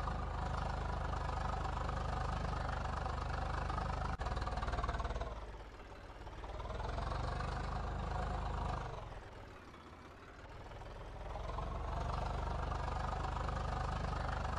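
A Swaraj 855 tractor engine in the video game Farming Simulator 22 drones steadily at idle, loud and close, with its level sagging twice before returning to a constant rumble.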